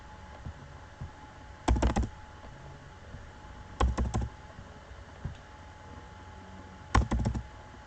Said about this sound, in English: on your keyboard press the backspace button multiple times